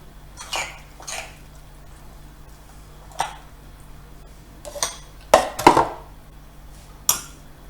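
Poor man's pesto mixed with oil in a bowl: a scattering of irregular scraping strokes and light utensil clinks, clustered toward the end, heard close with no speech.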